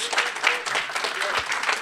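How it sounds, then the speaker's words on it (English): Crowd at a Black men's legacy summit applauds panelists, a brief burst of close, fairly loud clapping with a few raised voices mixed in. "Give them a round of applause."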